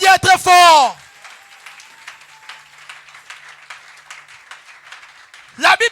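A church congregation applauding and cheering for the Lord, a soft continuous wash of clapping and voices set between loud bursts of a preacher talking at the start and end.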